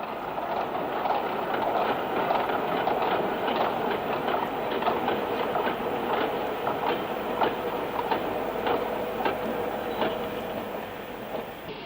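Old steam locomotive number 12, the doyenne of the Java roster, rolling at the Slahong terminus, a steady rhythmic clatter of wheels and chuffing at moderate distance, continuous throughout.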